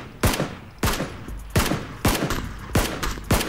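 Gunfire in the video game PUBG: six sharp, loud shots spaced roughly half a second apart, each cracking off with a short decaying tail over a steady background.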